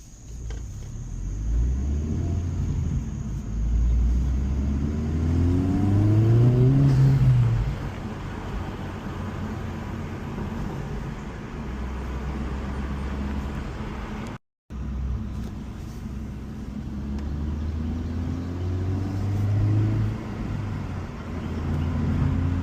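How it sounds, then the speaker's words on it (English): A Honda Civic Type R FL5 rumbles close by as engine revs climb and blip during rev-matched downshifts, the pitch rising then falling in two distinct swells over a steady road drone with no speech. "The rev match downshifting."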